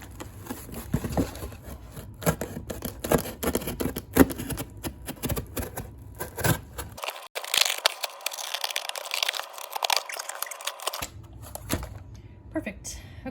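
A box cutter slices through a small cardboard box in a run of rapid scratchy cuts and crinkles, with a voice talking over parts of it.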